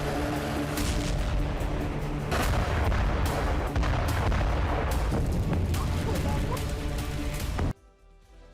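Explosions from an Israeli bombing strike on Iran, carried in news footage: a dense, continuous roar of heavy blasts and booms with sharp cracks, loud throughout and cutting off abruptly near the end.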